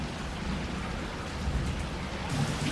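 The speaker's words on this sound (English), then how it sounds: "this hard rain has been going on for close to an hour" Heavy, steady downpour from a thunderstorm in Green Valley, drumming continuously on surfaces with a dense hiss, loud and close with no talking.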